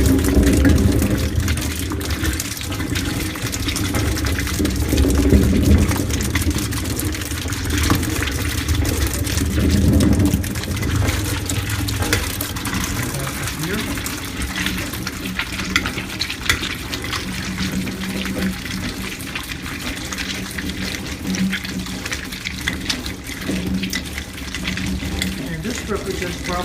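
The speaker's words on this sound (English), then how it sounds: "now that we have all the grapes crushed and we've added 2 gallons of water" Water pours steadily into a container of crushed Concord grapes for homemade wine, a continuous rushing splash that runs throughout and is strongest early on.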